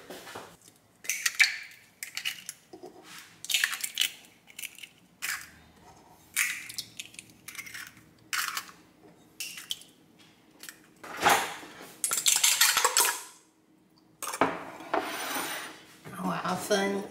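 Eggs cracked one after another into a bowl while preparing a mochi pizza batter, giving a series of sharp, close taps and clicks with short pauses between them, plus a brief scraping stretch near the end.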